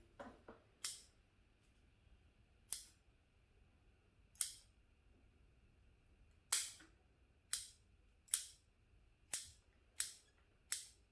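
Sharp metal scissors snip the needles of a juniper bonsai in a string of about ten distinct close cuts, irregularly spaced and then coming quicker near the end, over a quiet background.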